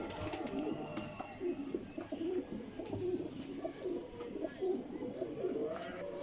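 Kasuri jaldar male champion pigeons coo in continuous low, throaty rolls, several birds overlapping at moderate distance amid a busy loft background.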